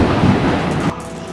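Heavy rain hisses as a dense, even wash of noise, then cuts off abruptly partway through the short stretch.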